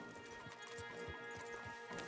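Horses' hooves clip-clop in the video game Red Dead Redemption 2, giving a quiet, regular rhythm of hoof beats over a soft background hum.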